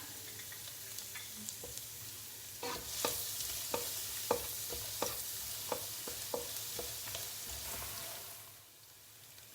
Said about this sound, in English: I'm going to start by fry the garlic first and young ginger